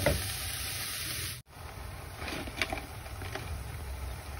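Ground meat sizzling and frying in a pan as onion, tomato and crushed garlic go in, a steady broadband hiss with a brief dip and then light stirring clinks, close and moderately loud.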